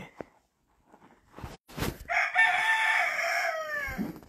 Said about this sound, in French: Bonjour, monsieur le coq.